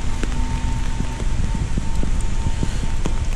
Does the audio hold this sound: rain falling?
yes